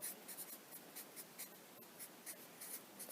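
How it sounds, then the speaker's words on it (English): Pen or pencil scratching out SOH CAH TOA on paper in short, rapid strokes, close and quiet, with no voices. "So if we write out SOH CAH TOA,"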